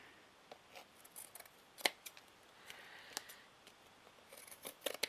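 Scissors snip close by in a few sharp, sparse cuts while trimming material for a vintage book cover, faint overall in a quiet room.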